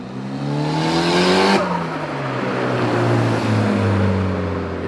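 Mitsubishi Evo 7 with a screamer exhaust pipe driving past outside, a loud, raspy engine roar that rises and then drops in pitch as the car passes, staying loud throughout.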